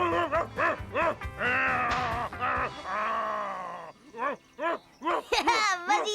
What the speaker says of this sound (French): tu peux aboyer, tu peux grogner, tu peux hurler.